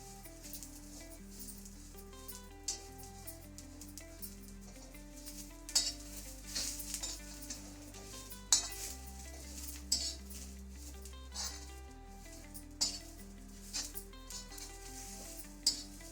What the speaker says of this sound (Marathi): मसाला पण मी भाजून घेतली त्याच्यात.